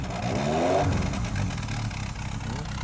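A Ford Sierra Cosworth engine, a rare auction car with carburettors, starts and revs, a loud close rumble rising to a burst of revving then settling into a steady rough idle, with no talk.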